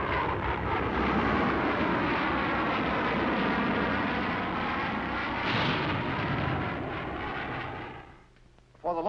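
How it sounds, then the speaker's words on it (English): A small solid-propellant rocket launches in 1950s archive footage, a loud, steady broadband roar sustained for about eight seconds before dropping away abruptly near the end. "You press the button of the firing circuit and let her go."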